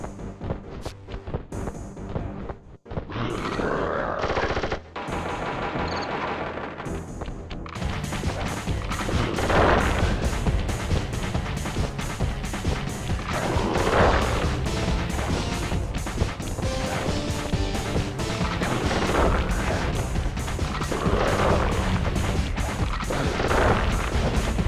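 Loud video game combat in Sly Cooper and the Thievius Raccoonus, with gunfire and heavy smashing crashes over a dense, continuous music bed for about twenty-five seconds, no voices.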